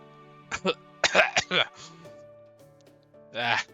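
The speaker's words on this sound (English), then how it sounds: "Winky's so flustered he's coughing." A character in the game Fate/Grand Order coughing and clearing their throat in a few short, close bursts over soft game music, with a spoken voice between the coughs.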